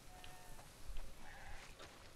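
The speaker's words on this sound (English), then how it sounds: "Wow. That's a lot of sheep." Sheep bleating in a barn in the video game The Last of Us Part 2, a few faint bleats from a flock over a low ambient rumble.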